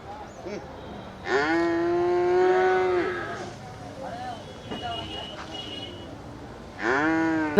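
Cattle at a busy livestock market low repeatedly, with two long drawn-out moos and a shorter call between them, heard close and loud over a murmuring crowd background.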